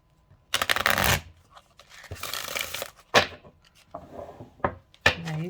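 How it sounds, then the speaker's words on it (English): Oracle deck cards being shuffled by hand in several separate riffling bursts, close and crisp, with short gaps and soft handling noises between them. "Now, you guys can't see me shuffling"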